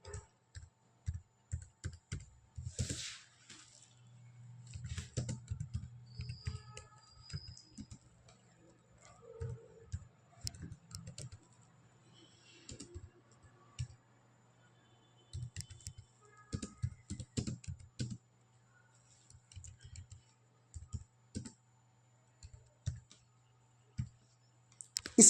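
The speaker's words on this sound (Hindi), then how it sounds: "यहाँ पर मैं टाइप करता हूँ" Typing on a computer keyboard while writing a Java program: irregular runs of quick, light key clicks with short pauses, close and clear over a faint steady hum, with no talk.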